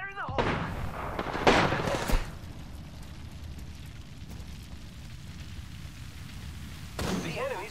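Enemy gunfire rattles in the battle royale game Apex Legends, with several loud bursts early, then a rumbling stretch and another burst near the end, beneath a steady game soundscape.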